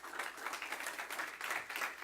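A church congregation claps together as an offering of palms, a dense continuous patter of many hands held at steady moderate loudness for the whole stretch.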